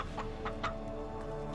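A chicken clucks in several short, separate bursts close by against a faint steady background hum.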